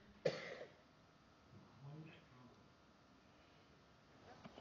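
A single sharp cough rings out near the start, fairly clear against a quiet room, followed by faint murmuring and low background hum.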